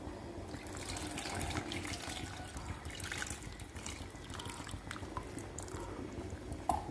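Dissolved tamarind water is poured into a pot of vatha kuzhambu, giving a continuous soft splashing and trickling close by with no talking.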